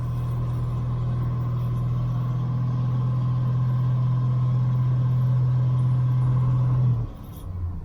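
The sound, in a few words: Jeep CJ-7 engine revving at mid-range RPM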